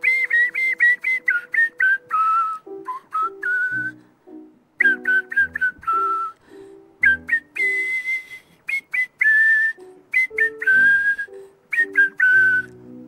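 A person whistles a lively melody, clear and close, in quick phrases with short pauses between them, with no talking.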